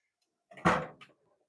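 A toolbox clamp drawer in a garage slides open once, a short close scrape with a small knock at its end, alone in a quiet room.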